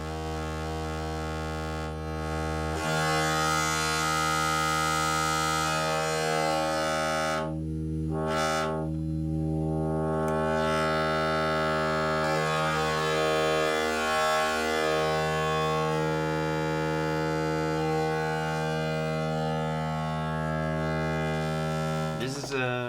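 Sustained buzzy synthesizer drone from a phase-distortion oscillator module made by Lowry, rich in harmonics, with the timbre sweeping and shifting over time and brief dropouts partway through.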